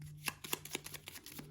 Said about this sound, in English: Just grab as many of the gold cards as you can, give them a shuffle.